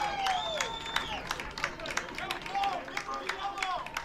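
Crowd of fans at an ultimate frisbee game cheering, clapping and yelling in bursts, with sharp claps and whistles over a steady crowd hubbub, somewhat distant.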